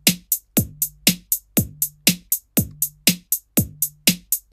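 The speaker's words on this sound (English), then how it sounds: "the hats or hi-hats, and they're usually a really high-pitched metallic sound like this" A programmed drum beat built in BandLab plays in a steady, even rhythm: bright, metallic hi-hat ticks on the eighth notes alternate with punchy lower drum hits. The pattern is close, clean and alone, with no talking.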